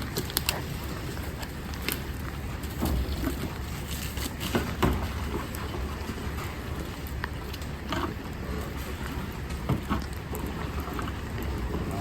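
Steady rain pours down on a muddy farm yard, making a dense, even hiss with scattered louder drops and patters throughout, fairly close, with no talking.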